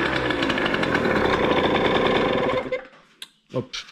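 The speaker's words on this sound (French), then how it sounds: "Et normalement, un coup de kick et démarre." A Hm 50 CRE Six Competition enduro motorbike engine fires up after a kick and runs with a loud, fast, rattling buzz for a few seconds, then cuts out and leaves a few scattered knocks and clicks.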